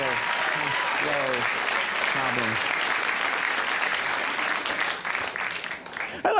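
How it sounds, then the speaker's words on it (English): Gentle applause from a late-night talk show studio audience, moderate and steady, with someone speaking over the start before the clapping thins out. "Getting just gentle applause, like I'm a figure in Parliament."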